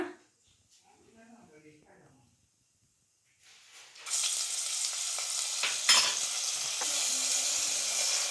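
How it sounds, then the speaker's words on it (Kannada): Ginger garlic paste hits a hot pan with toor dal for a green masala avarekai sambar, bursting into a loud, steady frying sizzle after a few seconds of quiet, with stirring scrapes along the way. "ಹಾಗೆ ಒಂದು ಅರ್ಧ ಸ್ಪೂನ್ ಆಗೋಷ್ಟು ಶುಂಠಿ ಬೆಳ್ಳುಳ್ಳಿ ಪೇಸ್ಟ್ನ ಹಾಕೊಂಬಿಡೋಣ"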